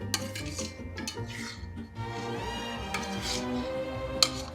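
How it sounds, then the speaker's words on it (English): Kraft macaroni and cheese being scooped into small bowls: soft, wet scraping and light clinks of a utensil against dishware, irregular and close, over a busy background. "So we're just scooping all the macaroni into these delightful little macaroni bowls."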